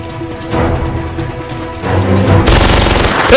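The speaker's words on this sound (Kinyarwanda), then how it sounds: "umva amajwi y'imbunda" Dubbed action-movie gunfire: bursts of shots and booms over a dense soundtrack, getting louder and more intense toward the end, with no talking.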